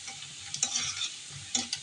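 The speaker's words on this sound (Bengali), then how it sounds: "পেঁয়াজ মরিচ ভেজে নিচ্ছি।" Onions and chilies fry in a pan while a spatula stirs them, giving a bright sizzle broken by a few sharp scraping strokes, close by and moderately quiet, with no speech.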